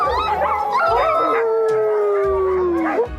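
Sled dogs in Svalbard howl together, several long, wavering cries rising and falling in overlapping pitches, loud and close, with low rumbling in the background.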